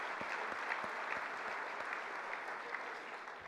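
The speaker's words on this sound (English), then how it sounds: "Let's give them another round of applause." Audience applause at an annual dinner for the Brotherhood singers, a steady wash of clapping throughout with a few low thumps, no talk.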